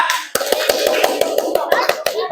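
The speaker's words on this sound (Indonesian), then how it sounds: "tepuk tangan buat kelompok 2" A classroom group of children claps hands together in a steady, rhythmic beat, sharp close claps repeating about every fifth of a second over children's voices.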